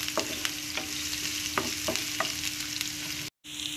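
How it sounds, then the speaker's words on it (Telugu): Thinly sliced onion and green chillies frying in a pan, a steady close sizzle with occasional scraping taps of a stirring spoon, then a brief cut near the end. "ఉల్లిపాయలు బ్రౌన్ కలర్ వచ్చే వరకు వేయించుకుందాం."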